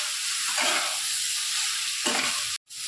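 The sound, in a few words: stirring mixed vegetables in a pan, adding water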